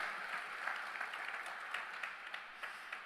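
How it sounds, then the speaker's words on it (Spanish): Church congregation applauding during a sermon, steady dense clapping from many hands at a moderate distance, fairly quiet and even throughout. "Dele un fuerte aplauso."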